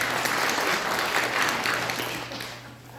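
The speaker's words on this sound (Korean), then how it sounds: "다시 한번 박수 부탁드립니다." Congregation applause at a Catholic charismatic prayer meeting in a parish church, a dense burst of many people clapping that starts full and gradually fades toward the end, heard alone without speech.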